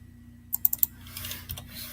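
Typing on a computer keyboard, four quick sharp key clicks followed by a softer patter of keystrokes, close and alone over a low hum.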